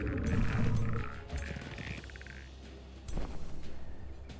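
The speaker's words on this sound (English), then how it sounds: "I got my frogs make such fun noises" Frogs croak in the fantasy strategy game Age of Wonders 4, with low, throaty croaks and grunts repeating over a dense, busy game soundscape of ambient effects.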